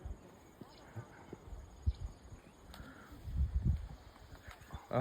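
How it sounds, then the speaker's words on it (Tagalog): Hooves clop and thud irregularly close by, with a snort or two amid outdoor noise and faint voices. "Kabayo."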